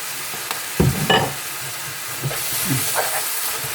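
Rice noodles with pork and dark soy sauce being stir-fried in a wok, giving a steady sizzle with a few scraping stirs and clanks of the utensil against the pan, close and moderately loud.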